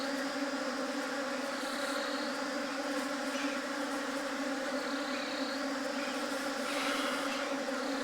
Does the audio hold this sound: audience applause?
no